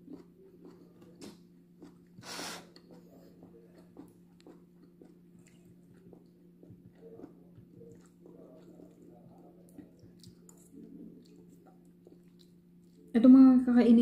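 Crunchy leftover home-cooked dishes are chewed close to the mouth in a quiet room, soft crunches and bites recurring through a low steady hum, with a louder burst of noise at the very end.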